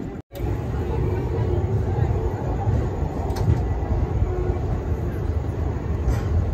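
A passenger train, the Kolhapur to Solapur express 22156, rumbles steadily along the tracks with a dense low roar and rattle of the carriages, continuous and loud after a brief drop at the very start.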